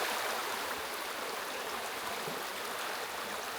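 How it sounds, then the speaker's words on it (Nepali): A shallow, clear river flows outdoors in a steady, even rush of water, moderately faint and unbroken, with no voices over it. "यहाँ यो स्यालो रिभर बहुत राम्रो छ"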